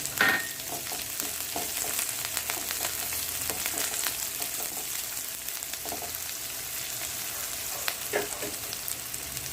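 Chopped garlic and onions frying in a pan for chicken chaat, a steady, close sizzle with intermittent scraping and clinking from stirring.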